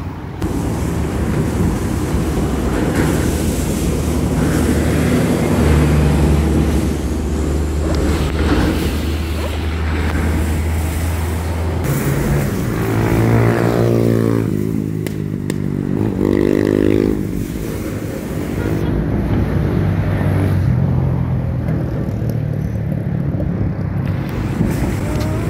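Road traffic beside a roadway near a shopping centre construction site in Montego Bay, Jamaica: a steady loud rumble of passing vehicles with wind buffeting the microphone and engine drones rising and falling throughout.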